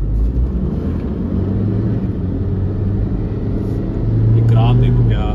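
A car fitted with a WindBooster throttle controller set to normal mode accelerates hard in a 0-100 test run, a loud continuous engine rumble heard from inside that swells toward the end, with voices talking over it.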